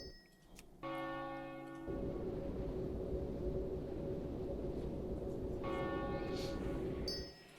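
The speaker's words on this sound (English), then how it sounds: "I do like how the clock chimes." A clock chiming in World of Warcraft: Burning Crusade Classic, loud sustained bell-like tones ringing steadily for several seconds over a low hum, with a second struck chime near the end.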